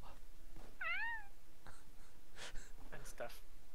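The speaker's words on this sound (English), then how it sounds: "My cat says beep beep." A neutered adult male house cat lets out a short, squeaky chirping meow nearby, followed by soft breathing and small rustles, with people chatting around it.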